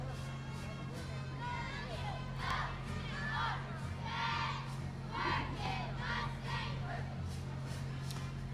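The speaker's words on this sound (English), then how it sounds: "The girls cheer for the Gamber Smallwood Mustangs." A squad of young cheerleading girls from a youth football league shouts cheers in unison at a fall parade, rhythmic chanted bursts over the hum of a crowd and a steady low drone.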